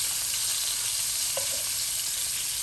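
Meatballs browning in a frying pan give a steady, dense sizzle at close range, a constant hiss with a faint tap partway through and no voices.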